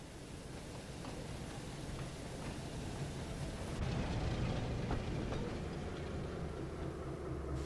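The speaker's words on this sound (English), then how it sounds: "Suddenly, Diesel pulled into the yard with a train of trucks." A diesel engine in a Thomas & Friends railway video game hauls a train of trucks through a yard, giving a steady rolling rail rumble with faint clickety-clack that swells slightly partway through, with no talking.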